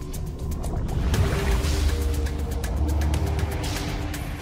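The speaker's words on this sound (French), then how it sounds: "Je mets le moteur en marche." A boat motor on open Pacific waters in the Solomon Islands starts and settles into a steady low droning hum, close and continuous, with no talk.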